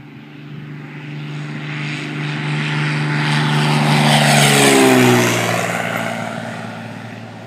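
A single-engine Columbia 400 propeller airplane roars steadily during a twilight takeoff, growing louder as it approaches and passes close by, its pitch dropping as it moves away.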